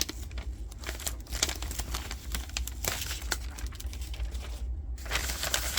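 Low-tack painter's tape being handled and pulled while taping stripes on a guitar, giving soft, quiet crinkling and sticky tearing sounds with small irregular clicks.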